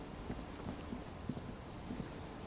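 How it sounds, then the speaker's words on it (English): Steady rain falling in the video game Disco Elysium, a constant soft hiss of fine drops at moderate level with a few faint low thumps, no voices. "It's getting late, and it's raining."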